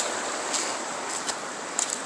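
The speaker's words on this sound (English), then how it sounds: "You can hear the water going over the little spillway there." Water runs over a small creek spillway at a spring in the Ozark Mountains of Arkansas, a steady, even rushing wash with no talk.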